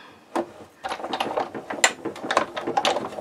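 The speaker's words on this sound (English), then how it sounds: "that hopefully is all I need my die cutting machine for" A die cutting machine cuts a wine tag topper card, giving a run of mechanical clicks and ratcheting, gear-like grinding with uneven rhythm, close up and moderately loud.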